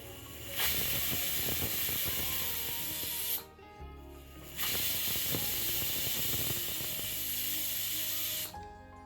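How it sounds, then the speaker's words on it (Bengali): A pressure cooker on a high gas flame steams tomatoes cooked without water, releasing two long, loud bursts of hissing steam separated by a brief quieter pause. "প্রেশার কুকারের ঢাকনাটা বন্ধ করে হাই ফ্লেমে দুটো হুইসেল আসা পর্যন্ত টমেটোটা সেদ্ধ হতে দিতে হবে"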